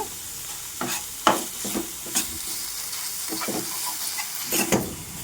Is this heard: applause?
no